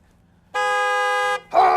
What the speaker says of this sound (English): You're always honking at me.